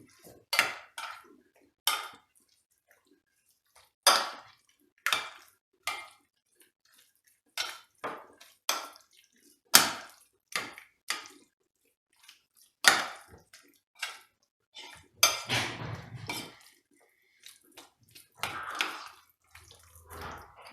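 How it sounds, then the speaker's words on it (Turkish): Spoon stirring grated carrots into yogurt in a bowl for a tarator salad, heard as sparse, intermittent wet clinks and scrapes with quiet gaps between, close and fairly soft. "Güzel bir şekilde karıştıralım."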